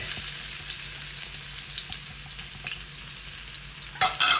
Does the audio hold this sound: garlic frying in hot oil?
yes